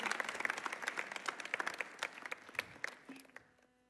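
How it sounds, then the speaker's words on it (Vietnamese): A church congregation bursts into a lively round of applause during a worship service, dense clapping filling the room for several seconds before quickly fading out. "Chúng ta dâng cho Chúa một tràng pháo tay"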